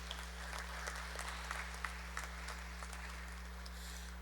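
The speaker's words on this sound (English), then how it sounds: "Let's give a big round of applause to Cortella Lewis." An audience claps at a University of Guyana convocation ceremony, a steady ripple of many hands heard faintly over a constant low electrical hum.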